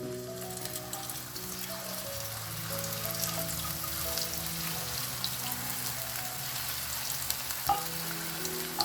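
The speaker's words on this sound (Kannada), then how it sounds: "ಸೊ ಲೋ ಫ್ಲೇಮಲ್ಲಿ ನಾವು ಡೈರೆಕ್ಟ್ ಎಣ್ಣೆಯಲ್ಲಿ ಈ ಥರ ಬಿಟ್ಕೋಬೋದು" Batter frying directly in hot oil over a low flame, a continuous soft crackling sizzle like light rain under a sustained tonal hum, with one sharp clink near the end.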